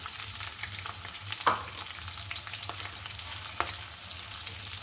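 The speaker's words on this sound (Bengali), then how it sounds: "আমি এখন এটা একটু ভালো করে ভেজে নেব" Chopped onion fries in a pan with a steady, quiet sizzling hiss, punctuated by a few light knocks of a utensil stirring, close up with no voices.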